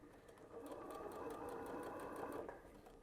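A sewing machine hums in a steady, close, continuous run as it top stitches around a fabric scrunchie, with no talk.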